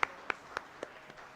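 A few scattered handclaps from an audience welcoming a guest onto the dais at a finance seminar's inaugural function, sparse and faint, spaced about a quarter second apart.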